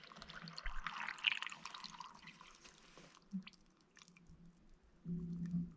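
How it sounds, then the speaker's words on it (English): Water pours and splashes into a rock tumbler barrel holding grit, a brief trickling rush up close, followed by quieter drips and a low hum near the end. "And we'll fill that up to the top with water."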